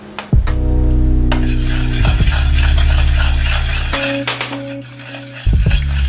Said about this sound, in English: Now I'm going to add the egg yolks and keep stirring so that it doesn't cook.